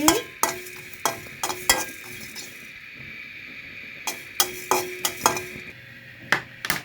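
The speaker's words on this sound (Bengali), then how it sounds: "ভাজনা দেওয়ার জন্য আমি ভেজে নিচ্ছি" Spices such as coriander, cumin and garam masala dry-roasting in a pan for a desi chicken curry, sharp metal spoon clanks and scrapes at irregular intervals over a faint sizzle.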